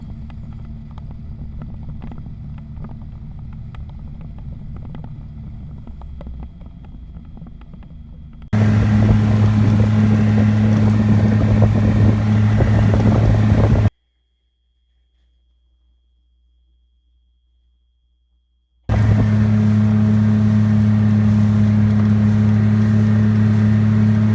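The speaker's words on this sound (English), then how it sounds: "I'm surprised at how much fuel I don't burn with this boat." A motorboat engine drones steadily at high speed with wind buffeting, cutting out briefly to near silence before the roar returns.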